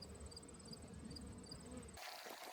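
Honey bees buzz around a honey super. The humming is steady and faint at close range, with no talking, and it stops abruptly near the end.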